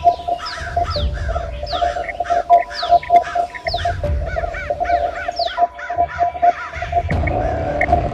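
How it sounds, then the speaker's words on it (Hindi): A flock of crows caws repeatedly in the sky in an animated horror cartoon, harsh calls overlapping in quick bursts over a steady background tone, loud and busy with no talk. "ये आसमान में देखो कितने सारे कौवे"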